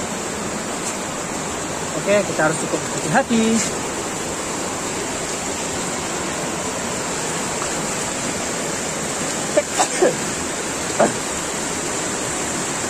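A river runs beside a rooty trail near Langkuik Tinggi waterfall, giving a steady rushing wash. Someone speaks briefly early on, and a few faint knocks and footsteps come later.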